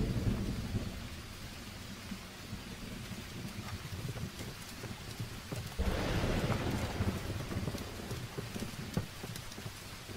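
Steady rain falls through a thunderstorm, with low rumbling thunder under the hiss and a surge in the downpour partway through, heard alone at a fairly quiet level.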